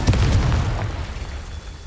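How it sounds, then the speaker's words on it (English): Confringo explosive spell cast in the video game Hogwarts Legacy, a loud booming burst at the start that fades into a rumbling tail. "Confringo."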